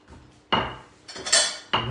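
A knife cuts baked potatoes in half on a new cutting surface, giving two or three sharp, loud knocks of blade on board with clattery kitchen ringing, close up and with no voices.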